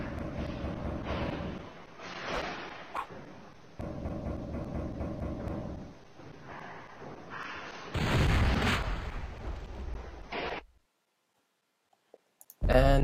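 Game explosions in Stick Figure Penalty Chamber 2, with clicking and bursts leading into a loud booming blast near the end, then a cut to near silence and a short final burst.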